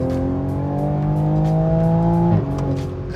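A Toyota GR Supra engine holds a steady, loud drone while driving, with a sharp pitch drop near the end as it shifts or lifts off the throttle. No one speaks.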